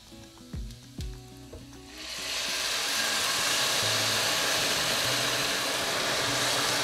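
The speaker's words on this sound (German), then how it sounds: "Und dann lasse ich kochen, bis der Wein verdampft ist." Risotto rice with green asparagus in a pan, deglazed with white wine, breaks into a loud, steady sizzle after a couple of seconds of quieter clinking and stirring, then keeps hissing without pause.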